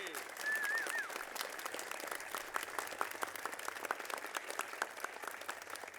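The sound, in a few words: audience applause for Governor Brian Kemp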